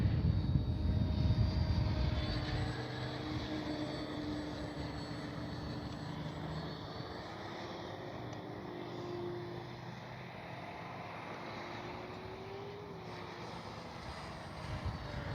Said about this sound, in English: an absolute fabulous flying little trainer jet, trainer plane